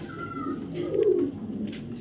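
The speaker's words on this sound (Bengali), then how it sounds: "এই কবুতরটাও রেস করা একটা কবুতর" A racing pigeon gives a single soft, throaty coo, close and clear, swelling in the middle over a low background murmur.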